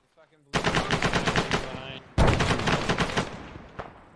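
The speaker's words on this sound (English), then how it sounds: "He's shooting an AK, I think." Two long bursts of automatic AK rifle fire in the military video game Arma 3 crack in rapid succession, loud and close, with a short gap between the bursts and a faint echoing tail.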